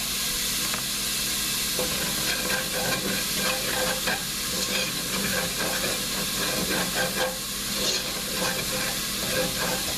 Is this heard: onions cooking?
yes